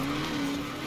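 A car drifting round a corner in Forza Horizon, with a steady tire squeal and engine roar held for under a second, loud and close.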